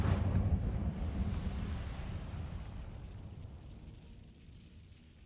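A fiery Incendio spell cast in a wizarding video game: a loud whooshing burst that roars up at once and then fades steadily away over several seconds, with no voices.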